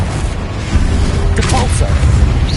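A Confringo fire-blast spell bursts in Hogwarts Legacy amid a rapid magic duel, giving a short booming impact over steady rumbling game ambience, with a voice calling spells around it.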